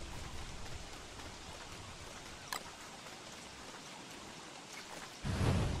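Steady rainfall patter in the video game Don't Starve: Hero in the Dark, with scattered drops, constant and moderate, then a sudden louder burst of rushing rain near the end.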